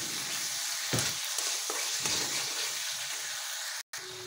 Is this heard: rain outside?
no